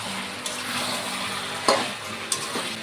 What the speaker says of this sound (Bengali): মাংসটাকে একটু কষিয়ে নেব। দিয়ে দেবো 2 কোয়া রসুন বড় দেখে।